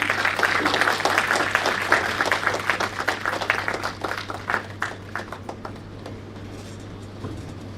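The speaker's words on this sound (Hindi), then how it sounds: "मैं अपनी ओर से आप लोग को मैं चाहूंगा कि ताली बजाकर आप इनको" A seated audience at a book release event applauds with dense, steady clapping that gradually thins out and fades toward the end.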